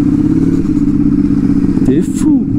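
A 1290 motorcycle engine runs while riding with a loud, steady low throb that rumbles close throughout, and someone talks over it.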